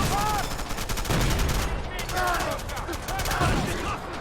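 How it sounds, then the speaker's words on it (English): Rifle and machine-gun fire from troops on a rooftop in the WWII strategy game Men of War: Assault Squad 2, rapid bursts and single shots crackling continuously over battle noise, with voices mixed in. "there's actually troops firing from the roof"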